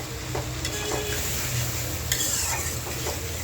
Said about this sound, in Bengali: তো আলু দিয়ে মশলাটা ভালো করে কষায় নেই